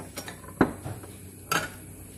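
A kawali frying pan being handled on a kitchen surface, producing a few sharp metallic clanks and knocks, two louder ones separated by about a second, fairly faint and without talk.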